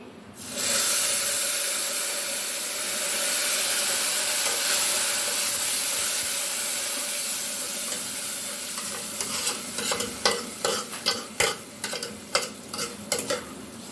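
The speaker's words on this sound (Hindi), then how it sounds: "और अब मैं इसमें ये पानी डाल रही हूँ" Water goes into a pan of frying vermicelli for an Eid sweet zarda, setting off a loud steady sizzle and hiss, then the sizzling fades under repeated scraping spoon strokes as the mixture is stirred.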